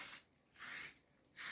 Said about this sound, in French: Je tiens la bombe de vernis à 20 ou 30 cm du tableau.